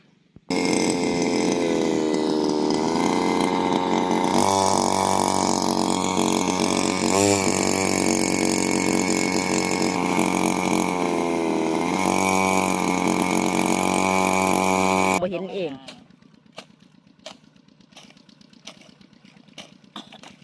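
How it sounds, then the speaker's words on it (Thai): Modified walk-behind farm tractor engine running steadily and loud for about fifteen seconds, a rough harmonic drone that then cuts off, leaving quieter background with a few faint clicks. "รถไถเดินตามประยุกต์"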